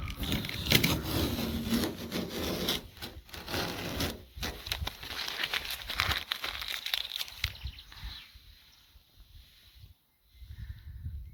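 Adhesive tape is peeled off car paint in a series of crackly, ripping pulls, loud and close, with short pauses between strips.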